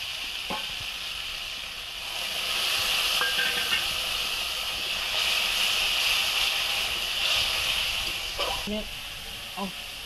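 Water splashes into a hot pan of fried capsicum and cooked-down spice paste for a fish curry. A soft sizzle swells into a sustained steamy hiss for several seconds, with a few small clinks and faint voices in the background.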